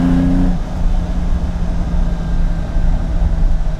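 A Lamborghini accelerating strongly through the mid-range, a loud, rough, continuous engine roar from inside the car with a steady rumble throughout.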